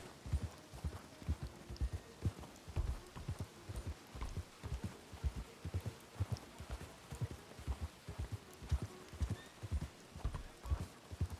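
Horse hooves clip-clop steadily in the video game RedM, a quiet, even walking rhythm of soft thuds that continues throughout with a faint background hum.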